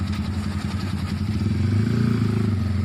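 A modified Honda Tiger motorcycle with a reworked camshaft putters along on a test ride, its engine a steady low, smooth thrumming chug, loud and close throughout with no speech.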